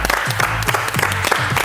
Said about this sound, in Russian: Аплодисменты Игорю.